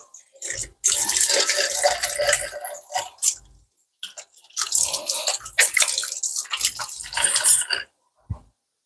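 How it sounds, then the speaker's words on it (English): Hands washed under a running kitchen tap while cooking pasta, with long splashing water gushes separated by brief pauses, close and fairly loud, then a faint drip at the end. "probably washing my hands too"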